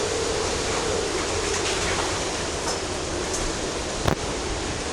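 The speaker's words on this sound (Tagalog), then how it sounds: "Kung marinig niyo po yung hangin talagang malakas." Strong typhoon wind roars steadily through a residential area, a loud broadband rush with gusty swells and a brief sharp knock near the end, no voices.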